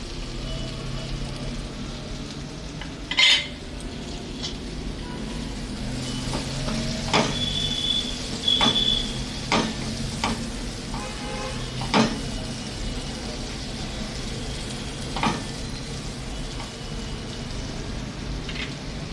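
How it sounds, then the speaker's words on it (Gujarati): White sesame seeds dropped into hot oil while making a Gujarati green chilli sambharo, giving a soft steady sizzle broken by a few sharp clinks and taps of a utensil. "અડધી ચમચી સફેદ તલ નાખી દેશું"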